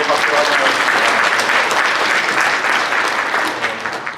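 A church congregation claps together to welcome a first-time visitor standing during a service, loud dense applause that holds steady before easing off toward the end.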